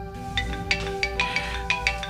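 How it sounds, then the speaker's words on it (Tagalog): A mobile phone rings with a melodic ringtone, repeated bright chiming notes over a steady sustained tone, close and clear with no talking over it. "Bah, ang cellphone ko. Si Mami ang nagapanawag."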